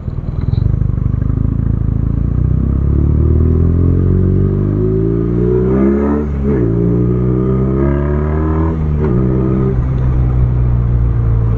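A BMW R nineT motorcycle engine while riding, with a steady low rumble and rising, shifting pitch as the bike accelerates and changes gear, loud and continuous throughout.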